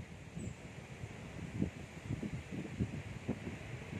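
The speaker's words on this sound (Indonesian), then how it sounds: "Kena angin lumayan itu" Wind gusts over a small homemade wind turbine built with a starter dynamo, a steady blustery rush with low rumbling swells and no talk.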